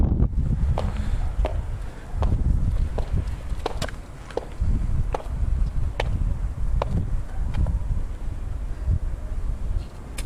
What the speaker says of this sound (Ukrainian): І вітер тут прохладний.